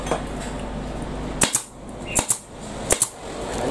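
A staple gun driving staples through a motorcycle seat cover, three pairs of sharp, snappy clacks in quick doubles, close and fairly loud over a steady background hiss.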